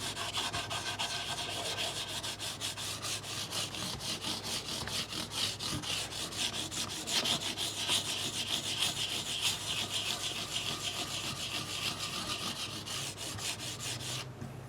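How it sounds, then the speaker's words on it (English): Quick rhythmic rubbing of StewMac polishing pads along the fret ends on the side of an Epiphone guitar neck, a close, fairly quiet scratchy stroking that repeats steadily with no talking. "Now I also have a couple of these StewMac polishing pads, and then I just kind of hit the side like this."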